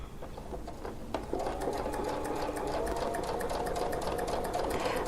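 A sewing machine stitches a quilt along a circle template, its needle running in a fast, even whir after a short start, close and steady.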